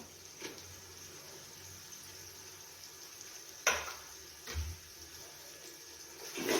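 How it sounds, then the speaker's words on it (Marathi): Onion and green chillies frying in oil for chicken biryani, a soft continuous sizzle with a few brief stirring scrapes and clatters, fairly quiet and with no talk. "कांदा हिरवी मिरची मस्त असं फ्राय करून घेऊया"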